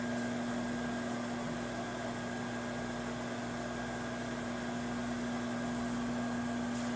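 Microwave oven running steadily while heating clam chowder with heavy cream and clams in a mug, a constant close hum with a strong tonal drone and no talk.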